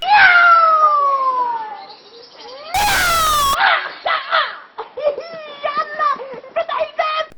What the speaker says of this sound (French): il va abuser et attaquer les chats qui dorment